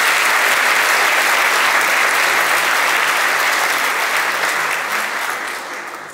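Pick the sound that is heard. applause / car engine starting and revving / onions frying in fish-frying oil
applause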